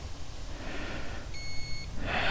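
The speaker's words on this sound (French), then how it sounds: "Une fois, 2 fois. On a eu les 2 bips." Alarmed motorcycle disc lock giving a single clear electronic beep as it activates, a short steady high tone heard up close over faint background noise, with no talking.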